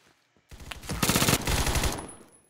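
Burst of rapid automatic gunfire from a newly tried gun in the shooter game Phantom Forces, a dense, loud stream of shots running for about a second and a half after a short quiet lead-in, with no talking.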